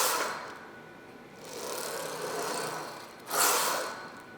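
A chest exercise machine rep: a smooth mechanical whir rises and falls, then a sharper rushing surge near the end, fairly quiet with no talking.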